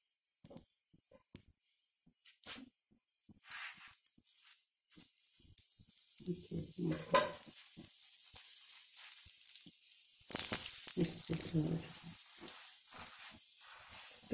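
A malai paratha fries with ghee on a griddle, heard as a faint background sizzle broken by scattered clicks and handling knocks, with a louder stretch of hissing frying toward the end.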